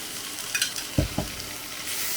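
Food sizzling in a pan while a utensil scrapes and stirs tomato paste and cucumbers, a few distinct clunks against the pan over a steady frying hiss.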